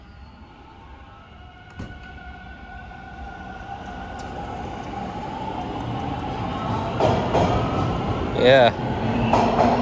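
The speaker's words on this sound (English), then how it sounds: "You get to hear the sounds of the subway from up here." Toronto Bloor-Danforth subway train departing below Strathmore Blvd, heard from the street above: a low rumble swells steadily with whining tones and rattling toward the end, with a brief voice early on.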